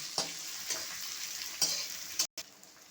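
Spoon scrapes through whole peppercorns, cardamom and cinnamon sizzling in a frying pan: four distinct stirring strokes over a continuous hiss of hot oil, close up, with a short dropout near the end.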